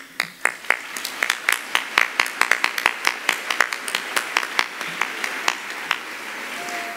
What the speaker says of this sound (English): since you're applauding